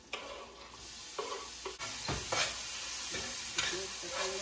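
Onion frying in a pan, a soft continuous sizzle broken by scraping and clacks of a utensil stirring, close and fairly quiet, with no talking.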